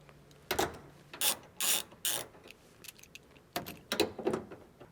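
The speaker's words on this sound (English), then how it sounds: "To remove these, you're going to need a 13mm socket." A ratchet fitted with a 13mm socket works loose the nuts holding a factory roof rack, clicking in quick, close bursts with short pauses between strokes.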